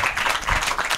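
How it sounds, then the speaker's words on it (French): A short burst of clapping from an audience at a live comedy show, dense and continuous for about a second, fairly close with no voices over it. "applaudissez pour sa maman, s'il vous plaît"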